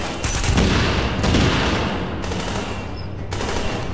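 An automated turret in a video game firing steadily, a loud, continuous stream of rapid gunshots with a few heavier bursts, close and sustained throughout.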